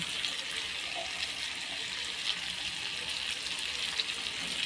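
Pieces of goat fat frying in a pan along with potatoes and spices, a continuous hissing sizzle running close and steady at an even volume, with no talk over it.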